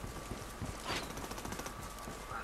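Gunfire in the video game Ghost Recon Wildlands: a dense, steady stream of rapid shots that fills the clip with no pauses, like sustained machine-gun fire.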